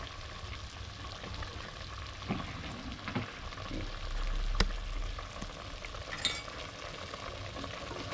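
Pork belly and eggplant stew simmering in a pot, with a steady bubbling sizzle running throughout, a few sharper clinks and stirring knocks rising briefly above it, no voices.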